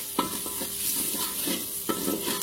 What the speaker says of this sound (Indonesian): Kita oseng sebentar.